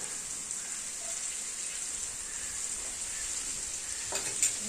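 Vegetables frying with turmeric in a pan make a steady, soft sizzle that runs evenly throughout, with a few faint stirring scrapes near the end and no voices.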